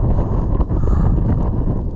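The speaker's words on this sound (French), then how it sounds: "Il y a du vent." Strong wind roars continuously against the microphone on the Hardangervidda plateau in Norway, a dense low rumble with no pauses.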